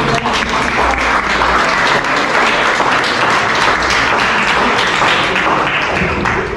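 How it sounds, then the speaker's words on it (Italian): Loud, continuous clapping from an audience at a book presentation event for the volumes Solo and Panta Rei, dense and steady from start to finish with no pauses. "io farei anche un applauso"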